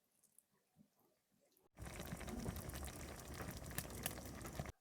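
Fried aubergine and tomato curry in a pan, a few faint clicks at first, then a sudden loud, dense bubbling simmer that continues steadily.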